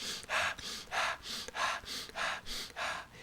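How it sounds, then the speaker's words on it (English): Rhythmic breathy throat sounds from someone practicing circular breathing for didgeridoo, seven or eight quick gasping in-and-out pulses at a steady pace, close and fairly quiet. "You might get some little funny throat sounds, little throat movements back there"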